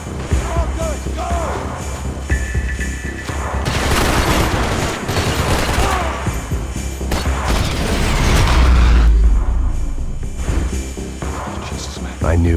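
Dense, continuous gunfire and mechanical clatter fill a firefight in Max Payne 3, with bursts of shots, impacts and a deep boom, while voices shout over the chaos.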